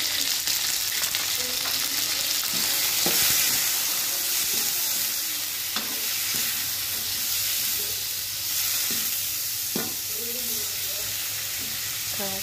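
Shrimp stir-fry in a hot pan for a shrimp-and-sausage dish, with a constant loud sizzle and hiss broken by occasional clinks of a utensil stirring against the pan.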